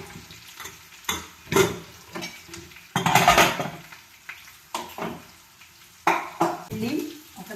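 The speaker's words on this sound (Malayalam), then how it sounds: "ഉള്ളി ഒക്കെ നന്നായിട്ടൊന്ന് മൂത്തോട്ടെ" Onions frying in a pan for a homemade curry, with short bursts of sizzle and metal utensil scrapes and clinks stirring at an irregular rhythm, close and fairly loud.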